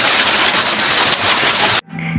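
Heavy rain comes down as a loud, dense, continuous hiss, then cuts off abruptly near the end and gives way to a quieter tonal background.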